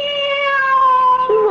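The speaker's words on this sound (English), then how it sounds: "Oh, cat. I'm so glad to see you." A cat meows once, a loud drawn-out cry close by that slides downward at the end, with no talking over it.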